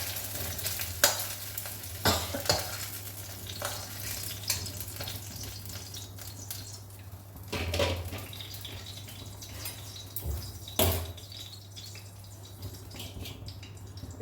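Fenugreek leaves fry in a pan with a steady low sizzle, broken by occasional clattering stirs and scrapes of a spoon against the metal.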